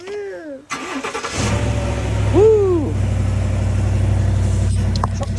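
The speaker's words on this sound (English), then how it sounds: "Truck started." A truck engine cranks and catches, then settles into a steady, loud idle close by, with people shouting and talking over it.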